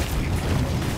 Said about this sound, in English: I think the explosion actually got me down my ship line